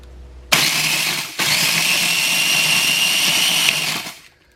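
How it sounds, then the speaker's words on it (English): A blender or food processor chopping Oreo cookies whirs up abruptly to a loud, high motor whine, cuts out for an instant, restarts and runs steadily for a few seconds before winding down, close and alone. "now I'm gonna just chop up my Oreos"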